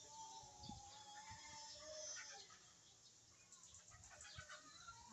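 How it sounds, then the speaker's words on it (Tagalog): Backyard chickens cluck and call softly at a distance, with a rustle of wing flapping and scattered farmyard noise in the open morning air. "Manok."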